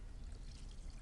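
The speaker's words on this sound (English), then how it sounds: "And now I'm going to add half a cup of milk. Really carefully." Milk poured steadily into a saucepan while cooking, a soft continuous liquid trickle lasting about a second, close and fairly quiet.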